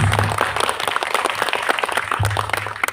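A crowd applauds steadily throughout, dense clapping filling the room with a low hum underneath.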